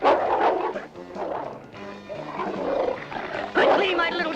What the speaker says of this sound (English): The dog's on the scent of those two intruders.